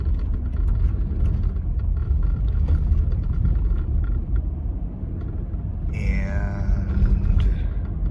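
A car engine rumbles steadily and close while driving down a city street, with a continuous low drone and road noise throughout and a brief voice near the end.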